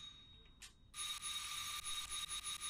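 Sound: doorbell ringing in a video game

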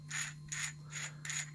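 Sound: unscrewing a steel Pittsburgh Pro ratcheting tap wrench

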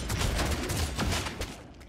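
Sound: gunfire in Deathwatch video game

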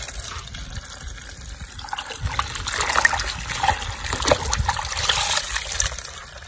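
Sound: water running from a tap

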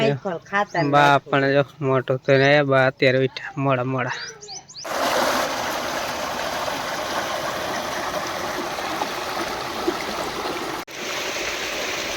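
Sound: irrigation water flowing after the water is turned on

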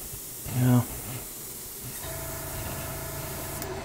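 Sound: Badger Sotar 2020 airbrush spraying paint

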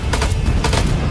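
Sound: gunfire in video game House of Ashes

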